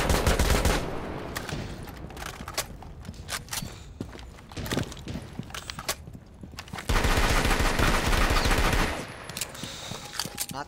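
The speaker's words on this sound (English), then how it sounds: "Not throwing, I'm just shooting my gun." Rapid bursts of gunfire from the Rainbow Six Siege video game, including Iana's Gemini Replicator, loud and close, in repeated volleys with short gaps and a dense sustained stretch near the end.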